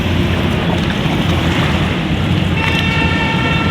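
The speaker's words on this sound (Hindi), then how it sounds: "देखो लहरें देखो गंगा मैया की।" Waves of the river Ganga lapping at Brijghat during the Kartik month fair, a steady broadband wash of water with wind rumble, continuous and fairly loud, with no voices.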